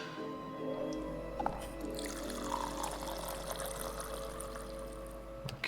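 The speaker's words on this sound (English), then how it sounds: "Got beans and water, make coffee." Coffee pours in a steady liquid stream in The Tartarus Key, a close, continuous trickle over a low steady hum.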